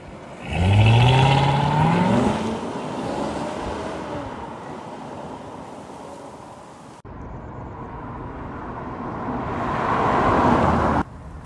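A base-model 2015 Chevrolet Corvette Stingray 1LT with its 6.2 V8 revs hard, its loud engine note climbing steeply, then settling into a sustained roar that swells again near the end. Cut between takes, close and forceful.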